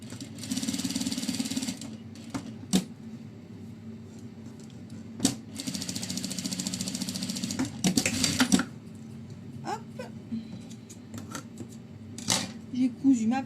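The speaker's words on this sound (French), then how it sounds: "J'ai cousu ma première oreille, je viens coudre la deuxième comme ça ici." A sewing machine stitches fabric ear pieces to their lining in short bursts of rapid mechanical whirring, separated by pauses, close and fairly loud.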